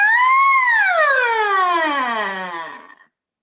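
A single human voice imitates a siren with the tongue out, sliding up and then slowly gliding down in one long, loud, close tone of about three seconds before cutting off.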